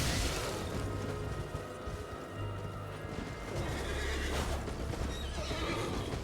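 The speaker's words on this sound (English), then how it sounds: "Okay, I guess we're getting off the horse now." A horse in the video game Elden Ring whinnies loudly over clopping hooves and busy game noise, close and continuous, with no speech.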